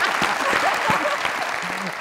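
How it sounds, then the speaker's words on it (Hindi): A studio audience on the comedy talk show Mazaq Raat claps steadily, a full, close burst of applause with some voices audible beneath it. "जरा तालियां"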